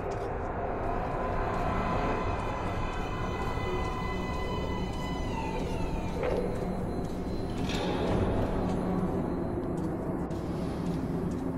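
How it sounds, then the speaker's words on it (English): A metro train pulls into an underground platform in the video game Metro Last Light: a steady, loud rumble with rising and falling mechanical whines, alone without talk. "Please step away from the edge of the platform. Train coming in."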